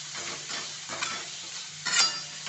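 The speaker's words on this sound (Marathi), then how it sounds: "आणि आपली भिजवलेली डाळ टाकून घेते चांगलं मिक्स करते ह्याला गॅस फुल करते" Soaked lentils frying in oil in a hot pan over a full flame, a continuous sizzle broken by the scraping swells of a spoon stirring, close and alone.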